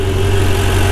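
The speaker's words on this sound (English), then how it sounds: "Now you can see guys how is the engine run." A Ferrari 488 engine idles steadily with a low, even hum and slight vibration, close and loud throughout the short moment, with no talking.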